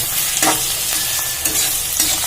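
Chicken curry base with onions and turmeric being stirred in a frying pan, a spatula scraping in repeated strokes over a steady close sizzle of hot oil.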